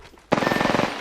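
A rapid burst of automatic gunfire in Apex Legends starts abruptly, with around a dozen close, evenly spaced shots rattling off in under a second.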